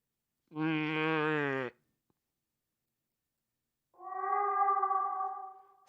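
A cat's mournful cry in the video game The Last Door, two drawn-out wailing calls separated by silence, the first higher and brighter, the second lower and longer, heard alone.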